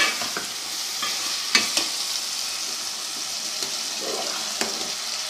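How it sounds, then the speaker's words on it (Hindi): Potatoes and peas frying in a pan for macaroni, with a constant close sizzle broken by a few sharp spoon scrapes and knocks against the pan, and no voices. "और अब हम इसको भून लेंगे।"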